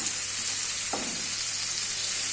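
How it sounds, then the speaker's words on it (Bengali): Onions and potato frying in a pan with spices, a steady close hiss of oil with one soft stir-scrape partway through. "পেঁয়াজের সাথে ভাজতে থাকি।"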